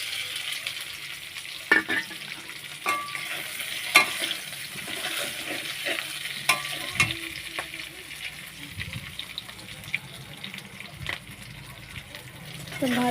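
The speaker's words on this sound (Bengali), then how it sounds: "তো ভাজবো যতক্ষণ না মিক্স হয়ে যায়।" Fried potatoes frying in oil in a pan and being stirred, a soft sizzle under intermittent scrapes and knocks of a spoon, with a voice talking now and then over the cooking.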